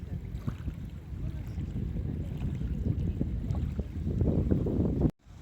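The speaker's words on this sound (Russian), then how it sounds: "Поднялся сильный ветер и прогнал нас с пляжа." A strong squall sweeps the Dnipro river beach in Kyiv, its gusts buffeting the microphone as a low, rising rumble that builds for several seconds before cutting off abruptly.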